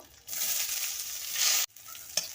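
Onion hits hot oil in a wok with a loud, bright sizzle that swells and holds steady, then breaks off abruptly, followed by quieter frying and a single clack of stirring.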